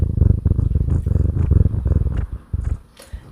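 A cat purrs close and loud in a continuous rhythmic rumble that pulses with each breath and fades slightly toward the end.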